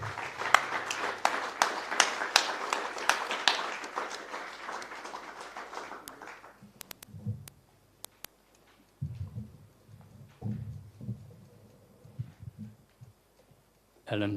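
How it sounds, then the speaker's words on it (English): Audience applause at the 80th Annual Congress of CFU Zimbabwe, a burst of many hands clapping that fades after about six seconds, followed by scattered sounds and someone speaking. "join me in giving Andy, particularly with his team, a round of applause"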